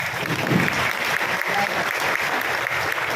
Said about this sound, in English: You deserve a warm round of applause.